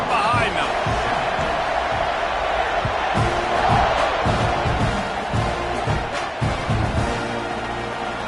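Football stadium crowd at kickoff, a dense roar of thousands of fans that swells and churns steadily throughout, with a broadcast commentator talking over it.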